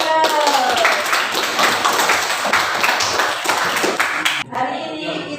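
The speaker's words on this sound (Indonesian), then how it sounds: "Tepuk tangan untuk kelas" A school class claps hands together during a teaching session, a loud, dense burst of quick, close claps from many students that carries on for several seconds before breaking off, with a voice speaking briefly at the end.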